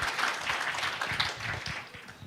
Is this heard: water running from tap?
no